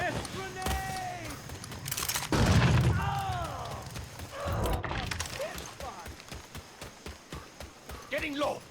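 Grenade blast in Mafia 3 Definitive Edition gunfight: a heavy low boom around the middle, with shouting voices and gunfire-like thuds before and after.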